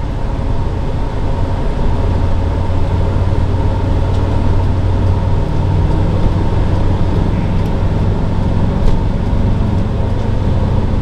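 2008 Monaco Monarch 33SFS Class A gas motorhome on a Workhorse chassis climbing a steep hill from a stop, a loud, steady low engine drone with road rumble throughout, no speech.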